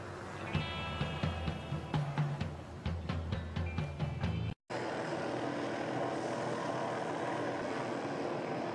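A steady helicopter engine drone with a rapid rotor beat near power lines, joined by clanking and tonal mechanical noises, cutting out briefly before the loud, even roar continues.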